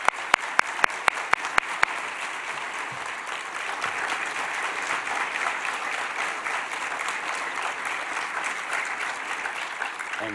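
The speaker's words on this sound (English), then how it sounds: "Please join me in another round of applause for all of our winners." Applause for award winners fills a conference session hall, opening with several sharp, isolated claps that quickly swell into dense, sustained clapping from a large audience, steady and fairly loud throughout without voices.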